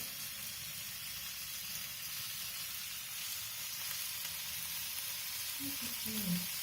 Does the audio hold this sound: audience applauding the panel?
no